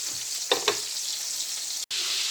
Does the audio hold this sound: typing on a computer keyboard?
no